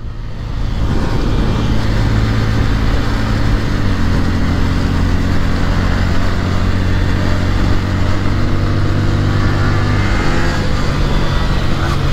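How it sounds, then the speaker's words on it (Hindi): A Yamaha MT-15 motorcycle accelerating hard on an open road, its engine roaring loud and steady for several seconds, with drone shifting in pitch through gear changes and heavy wind rush throughout. "तो चलो भाई बाइक को अभी भगा दे।"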